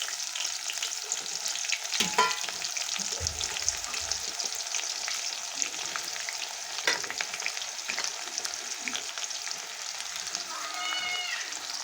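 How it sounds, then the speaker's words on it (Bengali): Chopped onions and bay leaves fry in a wok that earlier held fried potatoes, giving a loud, steady crackling sizzle throughout with occasional stirring scrapes close by. "এখন দিয়ে দিলাম তেজপাতা, কুচিয়ে রাখা পেঁয়াজ,"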